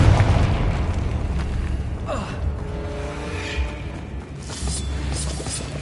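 A Confringo blasting spell exploding in Hogwarts Legacy, with a loud rumbling boom and burst over thick game ambience, trailing into a roaring low tail with no voices.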